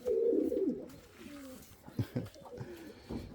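A pigeon coos in a coop, a few close, soft throaty rolling calls followed by shorter low grunting notes.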